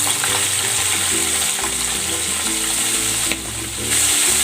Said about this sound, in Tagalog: Pwede na natin itong iprito. Yan, mainit na yung ating mantika.